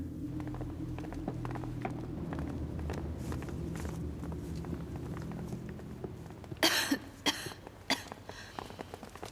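A woman coughs in a palace room during a period costume drama, a short burst of several sharp, loud coughs after a stretch of steady background murmur and rustling.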